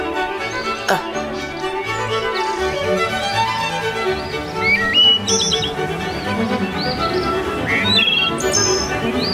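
Umbrella bird calling over a continuous bed of background music, several short chirps and tweets scattered through the passage, moderately loud and mixed under the music.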